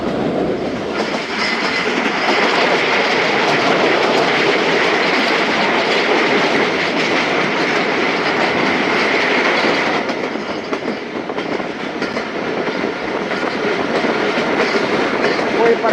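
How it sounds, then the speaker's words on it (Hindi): Thal Express passenger train rolling at about 60 km/h after leaving a station, a loud steady rumble of wheels on rails with rhythmic clickety-clack throughout, close and continuous. "बुरहान रेलवे स्टेशन से दोस्तों निकली है ट्रेन और 60 के राउंड स्पीड है।"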